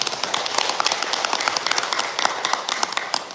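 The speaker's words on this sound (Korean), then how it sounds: "박수 한번 쳐주세요." An audience at a Sunday Buddhist temple service held during heavy rain claps steadily for about three seconds, a dense patter of many hands close by with no talking.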